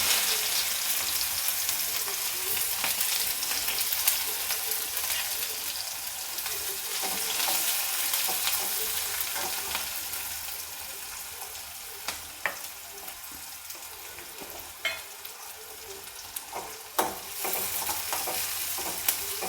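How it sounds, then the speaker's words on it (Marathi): Sliced onion with cumin seeds fries in hot oil in a pan for a bitter gourd dish, making a continuous bright sizzle with occasional clinks and scrapes of stirring toward the end. "आता कांदा घालून घेऊया आपल्याला"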